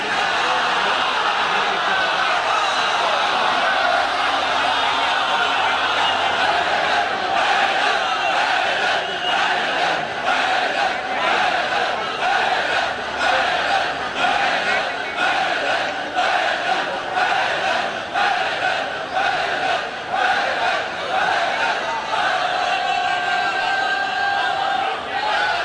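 A large crowd chants slogans in a loud, continuous rhythmic roar during the Black Taziya Muharram procession of 2023 moving from Ajmeri Gate to Jor Bagh, with voices pulsing in steady repeated beats.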